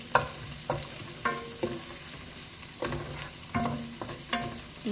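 Whole chillies frying in oil in a pan, a low steady sizzle broken by regular stirring scrapes about every half second to second, close and moderately quiet with no voices.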